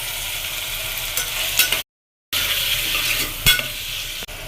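Chopped tomatoes fry with softened onions in a pan for chicken gravy, sizzling steadily up close while a utensil stirs and scrapes, with a brief silent break partway through.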